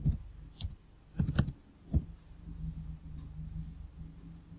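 A handful of crisp key clicks in short bursts as text is typed on a computer keyboard, close and fairly quiet over a low steady hum, with no talking.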